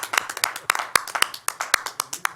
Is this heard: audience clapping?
yes